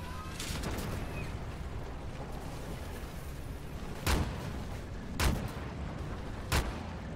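A few distant explosions and booming shots in a T-15 HIFV armored vehicle battle game, three or four sharp blasts spaced a second or so apart over a steady rumbling engine-like drone.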